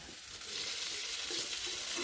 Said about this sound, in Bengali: এখানে করলা ভাজা করছি